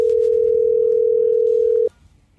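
A steady electronic phone tone from a call in a Minecraft roleplay game, holding one clean pitch for nearly two seconds before cutting off abruptly, close and loud, with faint background noise after.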